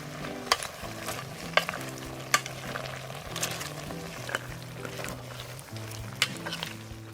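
Goat head curry cooking in a pot with mango leaves added, giving a steady soft sizzle and bubbling with occasional sharp clinks of a spoon or lid against the pot.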